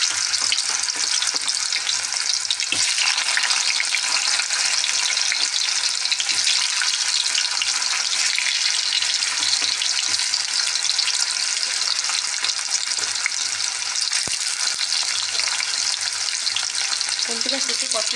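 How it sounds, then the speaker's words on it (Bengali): Steamed taro (kochu) pieces frying in hot oil, a loud continuous sizzle and crackle held close throughout, with occasional faint stirring knocks and no talk. "আগে কচুগুলোকে ভালোভাবে ভেজে নেব।"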